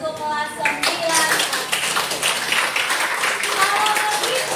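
Students in a class clap for class 9, a lively round of many hands clapping at close range with voices mingled in.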